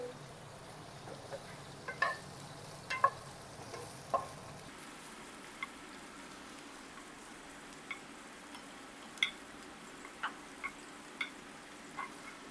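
Potatoes and capsicum sauté quietly in a pan with a soft steady sizzle, broken by occasional light ticks and clicks of a spatula stirring, close but faint.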